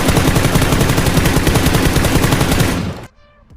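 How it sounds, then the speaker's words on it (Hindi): Sustained rapid automatic gunfire from a video game, loud and close, firing continuously for about three seconds before cutting off abruptly into quieter game sounds. "उसको मैं इतनी एमो मारता हूँ, ये मरता ही नहीं।"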